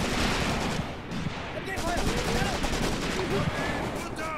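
Gunfire from a gun in the Graviteam Tactics: Mius-Front battle game forms a dense, loud, continuous barrage of overlapping shots and blasts, with faint whistling tones threading through the noise.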